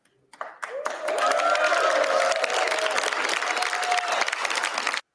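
Applause at a general election count rises to sustained loud clapping from a crowd with some cheering, continuing evenly for several seconds before cutting off abruptly.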